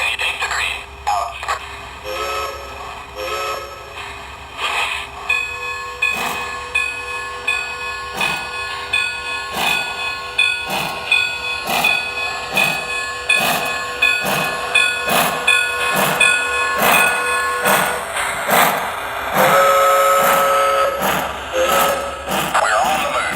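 Lionel LionChief Plus Mikado model steam locomotive running on a layout, with rhythmic electronic chuffing growing steadily faster and louder, sustained steam hiss, and short whistle tones near the end.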